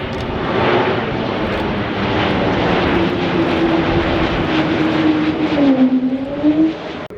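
An Embraer aircraft flies past at Farnborough Airshow with gear down, a loud, continuous engine roar with a gradually shifting whine as it passes.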